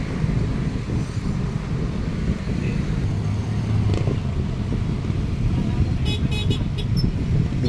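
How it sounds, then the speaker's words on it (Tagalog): A motorcycle rider sounds a horn at people chatting in the middle of a potholed road, short honks over a steady rumble of passing traffic, with a few sharp, higher beeps toward the end. "Binubusinahan sila ng isang riders."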